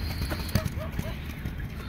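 A ridden horse's hooves clip-clop on the ground in a steady rhythm, close by, with someone talking over the hoofbeats.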